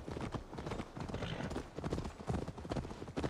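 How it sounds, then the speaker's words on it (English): Horse hooves clip-clop in the video game Assassin's Creed Valhalla, a quiet, fairly quick run of uneven hoof strikes with a faint rustling background. "Screw it. I'm taking my real horse."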